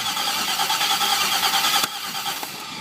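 A small gasoline engine driving a pump is started up, giving a loud, steady running drone that cuts off abruptly near the end, leaving quieter ongoing noise.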